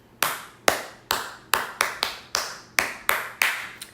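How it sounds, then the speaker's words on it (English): A single pair of hands claps about nine times in a slow, steady rhythm, each clap sharp and close, with short silences between. "Hands of applause."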